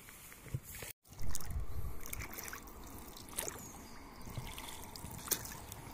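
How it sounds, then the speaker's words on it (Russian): Oars dip and pull through the water as a boat is rowed on the Oskol river, soft splashes and trickles recurring at a steady, unhurried pace, quiet and close. "Муж гребет"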